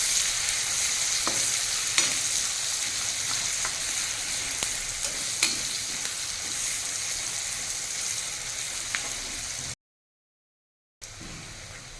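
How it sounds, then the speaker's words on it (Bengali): Chopped onion frying over a high flame for a chicken musallam, a steady loud sizzle broken by scrapes and taps of stirring, with a short silent gap near the end. "ফ্লেমটা এখন হাই করে দিয়েছি, পেঁয়াজটাকে ভালো করে ভেজে নিতে হবে"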